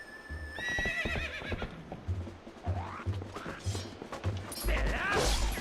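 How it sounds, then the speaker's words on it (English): In the video game Zelda: Twilight Princess, a horse whinnies loudly, then gallops with rhythmic hoof clops and thuds while people talk over it. "you hop on Epona and you're running through the field with this horse"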